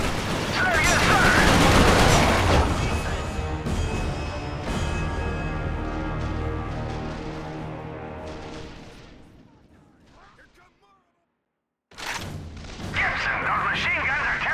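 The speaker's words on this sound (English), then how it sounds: "Our machine guns are tearing up the shreds." Machine gun fire rattles in Resistance: Fall of Man, a loud dense barrage with heavy booms that thins and fades out, leaving a brief silence before another burst of intense gunfire starts up.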